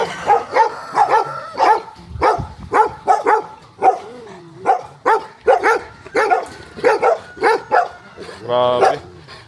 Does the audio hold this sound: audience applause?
no